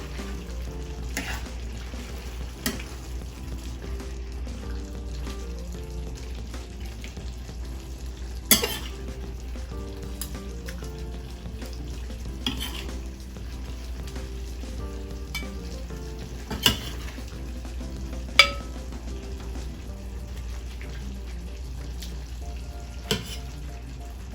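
Lentils with sausages and peppers cook in a pan with a soft, steady sizzle, broken now and then by sharp clinks of a utensil against the pan.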